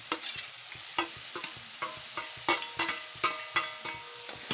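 Green chili paste, jaggery and turmeric powder are stirred in a pan, giving repeated scraping strokes with a spoon against metal over a soft sizzle, close up and with no voices.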